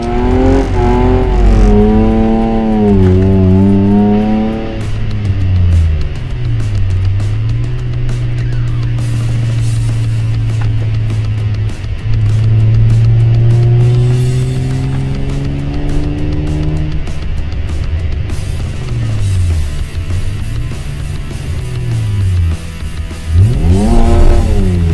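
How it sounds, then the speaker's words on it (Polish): A car engine on the Tor Białystok race track, loud and close, revving up and down through repeated rising and falling sweeps as the car drives around, with brief quieter stretches between. "Dźwięk silnika."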